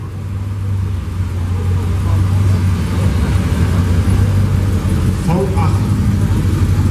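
A 1980 Chevrolet C10 pickup with a 5.7-litre V8 idles nearby at an oldtimer car meet, a steady low rumble that runs throughout, with a person talking over it.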